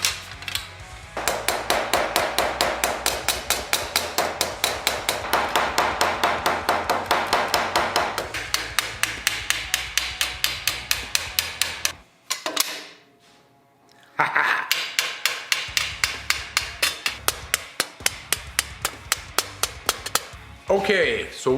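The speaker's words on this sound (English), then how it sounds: "Let's continue on and rivet the rest of these straps together." Steel armor straps on a Hound helmet replica from Game of Thrones are riveted with a hammer, producing close, rapid metallic strikes in long regular runs with a brief pause in the middle.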